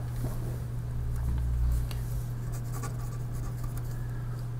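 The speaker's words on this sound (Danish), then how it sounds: "Så la oss skrive ned det." Handwriting while working through math notes on global extreme points: close, scratchy strokes come in uneven bursts over a steady low hum.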